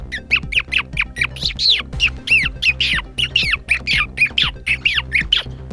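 A mimic imitates a bird with a rapid series of about twenty sharp, squawking chirps in an uneven quick rhythm, loud and close, with no talking.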